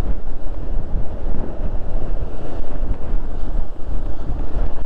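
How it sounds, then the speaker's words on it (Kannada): Strong wind on Chandra bridge near Atal Tunnel, a loud continuous roar buffeting the microphone close up, with no speech. "ಗಾಳಿ ನಮ್ಮನ್ನೇ ತಳ್ತಾ ಇದೆ ಗಾಳಿ,"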